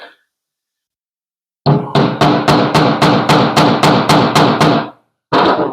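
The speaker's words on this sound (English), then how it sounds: "hammer action." A hammer strikes repeatedly while a trailer electrical panel is fitted, about a dozen sharp, loud blows in a fast, even rhythm, then a pause and one more hit.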